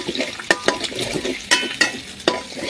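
Egg fried rice is stir-fried in a pan, making a steady sizzle with sharp, irregular scrapes and clacks from a spatula every half second or so, and no talking.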